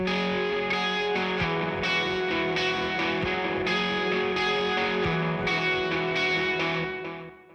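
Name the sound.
electric guitar through Amplitube 5 amp sim with echo and reverb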